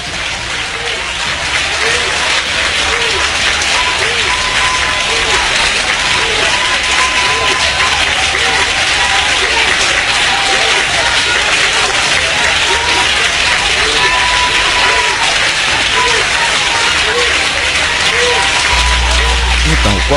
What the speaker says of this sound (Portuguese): Eles aplaudem, eles elogiam.